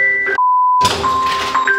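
A telephone notification beep rings out as a clear steady tone, cutting in and out amid background noise while electrical wiring work for an outdoor socket goes on.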